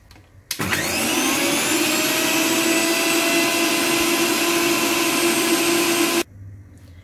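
Mixer grinder running on garlic for eggless mayonnaise: a loud, steady high-pitched whine that starts abruptly, holds for about six seconds, then cuts off sharply.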